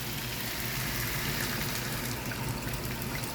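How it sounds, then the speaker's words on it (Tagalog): Water pours steadily into a cooking pot of chicken for biryani, a constant gushing sound with no pauses, fairly close and loud. "Lagyan na natin yung tubig."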